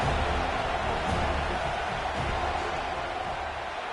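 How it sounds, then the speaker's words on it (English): Dense, steady roar of a college football stadium crowd at a Syracuse at Florida State game in a video game, sustained and loud as the field goal unit lines up for a kick, with no distinct voices over it. "This crowd trying to do its part to get inside the kicker's head."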